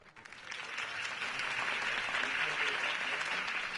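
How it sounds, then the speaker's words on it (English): Crowd applause following a political campaign speech for Harvey Dent in the Batman Telltale video game, a dense, steady wash of many hands clapping that swells in quickly and holds loud throughout. "could have heard that applause"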